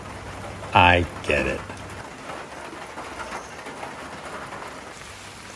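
Steady cold rain falls on the Appalachian Trail as a continuous soft hiss all the way through, with a brief spoken remark near the start.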